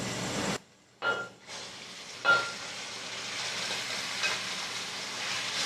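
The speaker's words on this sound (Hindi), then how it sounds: "अब इसके अंदर हम कीमा शामिल कर रहे हैं।" Minced meat sizzles steadily in a pan with softened onions, a continuous frying hiss briefly broken by a short quiet gap and a few stirring bursts early on.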